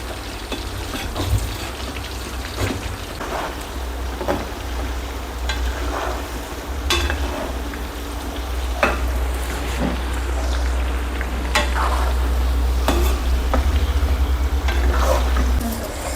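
Chicken pakodi frying in hot oil as it is gently stirred, a dense continuous sizzle with scattered scrapes and clinks, close and fairly loud, with no talking.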